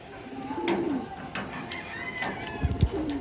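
Racing pigeons cooing softly in short, low warbling calls at a loft during training in Urdaneta, Pangasinan, with faint chirps and light handling noises nearby.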